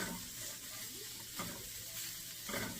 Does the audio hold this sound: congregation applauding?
no